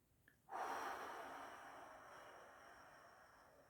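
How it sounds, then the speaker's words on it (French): A person takes a slow, controlled exhale in a breathing exercise. A soft, breathy rush starts abruptly and fades gradually over several seconds, close and quiet, with no talk. "Je vais expirer lentement en refermant."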